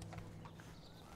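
A hungry horse's hooves clip-clop in a few quick, distinct strikes, quiet and close, with faint background ambience.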